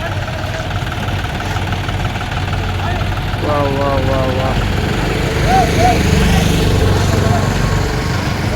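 A tractor engine chugs steadily and close by throughout while lowering a Ganesh idol for drop-off, a continuous low rumble with a faint whine rising partway through.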